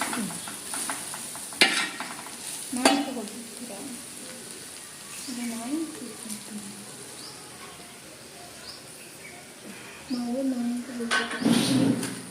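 Spatula stirring fried ivy gourd with fresh grated coconut in a pan, soft scraping and a light sizzle running throughout, with someone speaking over it at intervals.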